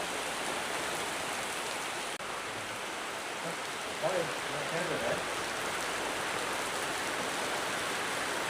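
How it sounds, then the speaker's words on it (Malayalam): Constant hiss of monsoon rainfall in misty hill country fills the scene, with faint murmuring voices briefly in the middle beneath the downpour. "മഴ വരുന്നുണ്ട്, മഞ്ഞ് വരുന്നുണ്ട്"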